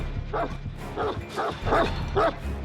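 Houndmaster's dog in the Dead by Daylight video game barks in a quick series of about five yips and bow-wows, close and fairly loud over a low game rumble.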